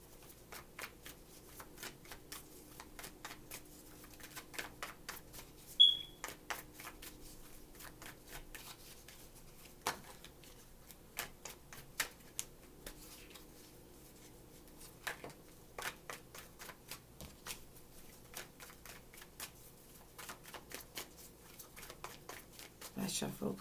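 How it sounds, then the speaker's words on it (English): Tarot cards being shuffled by hand, giving quiet, irregular crisp riffling and clicking through the whole stretch, with a soft voice murmuring faintly in the background. "Last shuffle, please."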